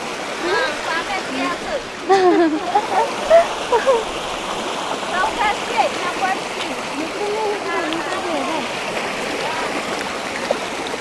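Footsteps wading and splashing through a flooded rice field, with water sloshing steadily around the legs and a few louder splashes near the start. Voices talk and exclaim throughout.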